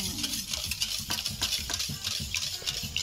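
Whisking a leche flan mixture of condensed milk and sugar in a bowl, with steady, close scraping and soft clinking of utensil against the bowl at a quick, repetitive pace.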